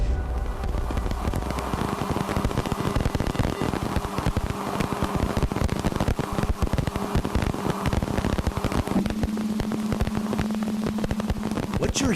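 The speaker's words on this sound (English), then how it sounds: "What you're hearing now is the sound of dust impacts on Uranus's rings." Dust striking Uranus's rings, rendered as a space recording: a dense, continuous crackling hiss of rapid impacts, steady and loud throughout, with no voices.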